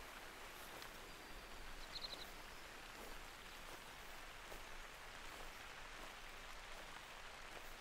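Steady rain from theHunter: Call of the Wild hunting game hisses evenly throughout as a dense, continuous wash, with a few faint bird chirps above it and no voices.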